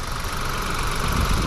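A 2023 Ford Bronco Sport Big Bend's 1.5-liter three-cylinder engine running under the open hood, a steady, loud, close-up idle drone with a rough, buzzing vibration and no speech.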